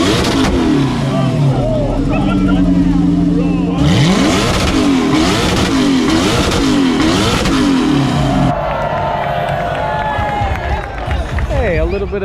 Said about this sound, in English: a little bit of a General Motors Chevy Corvette action, LS3 action